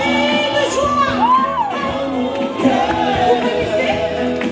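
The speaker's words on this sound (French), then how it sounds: "Il faut pousser des cris de joie." Wedding guests at a lively reception cheer, shout and whoop together, a dense crowd roar with rising cries over music-like tones, loud and continuous throughout.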